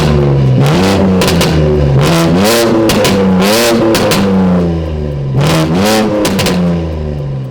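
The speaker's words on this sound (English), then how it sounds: "Let's give it some revs and see how it sounds." A BMW G80 M3 with an aftermarket exhaust and catless downpipes, or an Audi RS3, revving repeatedly while stationary, the engine pitch climbing and falling in several loud, close blips with no talk.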